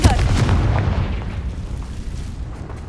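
A booming fire-blast spell explosion from Hogwarts Legacy, a single heavy burst that rumbles and fades over a few seconds.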